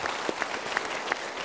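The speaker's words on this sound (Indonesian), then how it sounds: "Kita berikan tepuk tangan." Studio audience applause on a television talk show, a short burst of steady clapping from a crowd, moderately loud and continuous with no voices over it.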